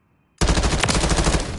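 Rapid automatic gunfire from the Call of Duty Warzone video game erupts suddenly after a brief quiet moment and continues as a loud, sustained burst of shots to the end.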